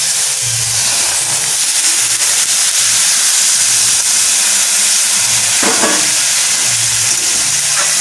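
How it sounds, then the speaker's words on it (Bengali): Hot water poured into a pan of sizzling river fish curry, giving a loud, continuous hiss and bubbling steam with faint stirring clatter throughout. "এবারে একটু গরম জল দিয়ে দেবো"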